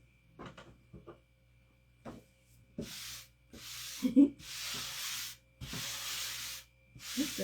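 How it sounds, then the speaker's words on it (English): Sandpaper rubbed by hand while making a DIY craft sign, heard as several steady raspy strokes of a second or so each, close and fairly quiet, following a few light taps and handling knocks. "I've got a piece of sandpaper."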